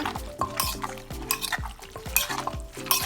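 A utensil stirs and mixes a shrimp rice-noodle salad dressed with crab sauce, giving repeated close scraping and clacking strokes against a bowl in a steady rhythm, with no talking.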